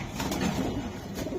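Racing pigeons coo softly nearby, a few low throaty calls rolling over a steady background hum without any speech.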